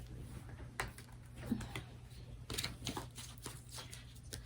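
Tarot cards being shuffled by hand during a card reading, soft, quiet riffling and flicking with a few sharper snaps, close to the listener in a hushed room.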